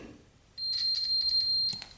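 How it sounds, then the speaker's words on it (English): A single steady electronic beep from a multimeter continuity test on an ATV fuse sounds for about a second, thin and high-pitched, then stops; quiet otherwise. "So if we hear a beep,"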